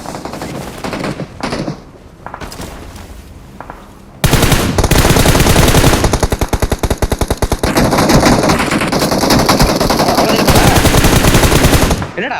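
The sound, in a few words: automatic gunfire spraying in a video game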